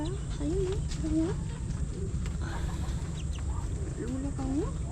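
A hen clucks in short repeated calls near a farm or construction site, with steady background noise and people talking throughout.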